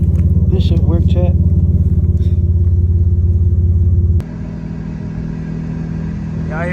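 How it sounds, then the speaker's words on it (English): A car engine rumbles loud and close at low revs, dropping to a quieter idle partway through, with brief voice sounds early on and at the end. "Y'all hear them tires warming up back there"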